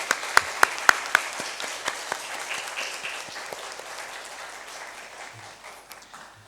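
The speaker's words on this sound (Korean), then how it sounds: "특별히 우리 참석하신 농아인 교회 성도들에게 박수해 주시면 감사하겠습니다." A church congregation at a Good Friday service with deaf members present applauds. A few loud, distinct claps open it, then a softer patter of many hands fades away toward the end.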